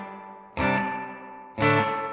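Two strummed guitar chords ring out through a Subdecay Super Spring Theory reverb pedal set to spring mode, each attack splashing bright and then decaying with a wet, springy tail; no talking.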